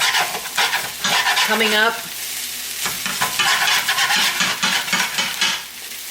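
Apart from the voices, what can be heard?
scraping and stir-frying chicken veggie fried rice in pan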